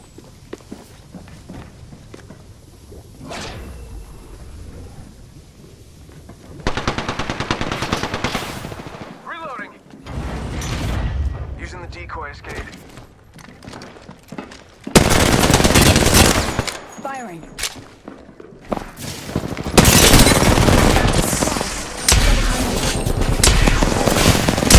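Gunfire from Bangalore's weapon in Apex Legends, loud sustained automatic bursts mixed with footsteps and running, close, with several long volleys and brief gaps.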